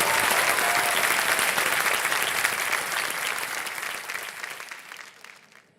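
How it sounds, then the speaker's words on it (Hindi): A crowd at a game event breaks into dense, continuous applause that holds steady for several seconds and then gradually thins and fades out, with no voices heard on top. "तालियां बज जाए उनके लिए बहुत।"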